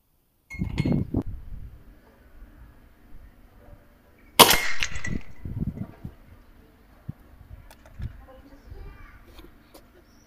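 Aarmr Hurricane air rifle fired outdoors at short range with a scope and bipod, giving one sharp, loud snap of a shot amid light handling noises, with a few fainter clicks afterward.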